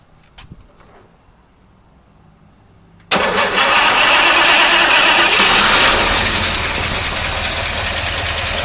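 A 1953 Oldsmobile Rocket Super 88 barn find starts after a quiet lead-in, catching abruptly and settling into a loud, steady, close idle for the rest of the clip.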